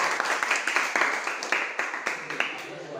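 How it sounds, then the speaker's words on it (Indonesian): A classroom group applauding a student's answer during a lesson, a light, steady patter of many hands clapping at moderate volume, with faint voices underneath. "Aplaus buat D"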